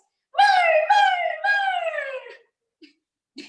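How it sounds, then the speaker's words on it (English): A small puppy with a tiny, squeaky voice gives three drawn-out, wavering howls in quick succession, followed after a pause by a couple of faint, short yips. "That dog has not stopped barking in its tiny, squeaky little voice."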